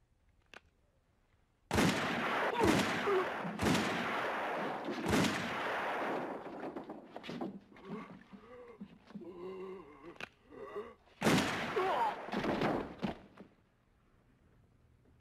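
Several loud gunshots ring out in a classic movie shootout, sharp blasts spaced a second or so apart at the start, then a stretch of echoing rumble and scattered noise before another tight cluster of shots near the end.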